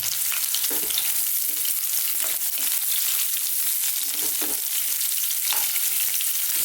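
Onion sizzles and fries on the highest heat in a wok for Chinese chicken fried rice, a loud steady crackle with occasional stirring scrapes, close up and alone.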